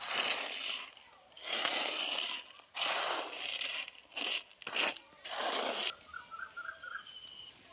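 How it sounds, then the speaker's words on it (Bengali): Dry lumps of sugar candy and lemon mix are dropped into a kitchen mixer jar, making bursts of crunchy rattling and scraping. Quiet talking follows at the end. "এখানে একটা মিক্সিং জার নিয়ে নিয়েছি দেখুন এর মধ্যে দিয়ে দিচ্ছি খুব ভালো কিন্তু শুকনো হয়েছে"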